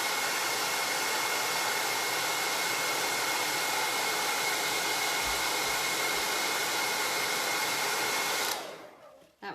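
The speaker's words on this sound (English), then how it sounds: "I'm gonna have to dry this with a hair dryer because it's like globbing green." A hair dryer blows steadily at close range while drying paint on a door hanger, a loud even whirring hiss that cuts off abruptly near the end.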